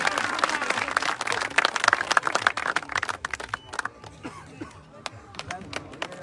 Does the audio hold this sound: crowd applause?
yes